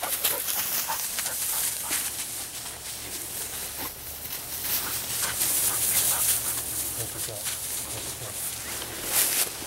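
A hunting dog whimpers and pants close by during a November pheasant hunt in the field, with short high whines scattered over a steady background of wind and movement.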